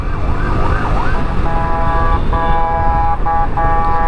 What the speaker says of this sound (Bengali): ইমার্জেন্সি বাজায় পুরাই